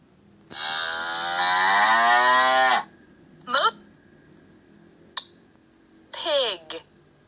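A cow moos with one long drawn-out low call, followed by a few shorter sounds and clicks, loud and close with no talk.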